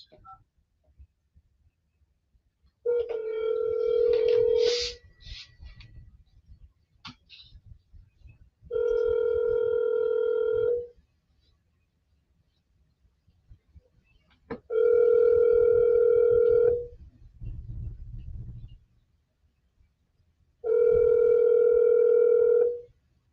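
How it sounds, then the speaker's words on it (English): A phone line gives a ringback tone while a number is being called, four steady, loud, identical tone bursts of about two seconds each, spaced roughly six seconds apart, with brief voices and faint noise in the gaps. "Answer the phone, Juan."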